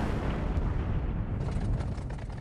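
Wartime explosions from aircraft shot down during a bombing raid, a dense, continuous rumble of booms and bursts with heavy low-end weight, loud and sustained without speech.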